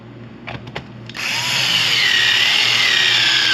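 A power drill drives screws into a C8 Corvette carbon fiber steering wheel: a few faint clicks, then a loud, steady whirring drill run of about two and a half seconds, close by.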